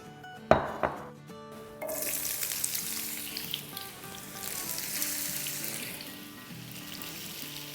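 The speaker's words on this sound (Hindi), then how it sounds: "ऑयल डाल देंगे अपने पैन में, जो चूल्हा ऑन है" Oil in a pan on a lit stove bursts into loud hissing sizzle after a brief clatter, then settles into a steady frying crackle that swells and fades slightly.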